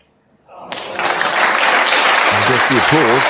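Applause at a snooker match swells quickly from quiet into a dense, steady clapping of a large crowd, with a voice starting to speak over it.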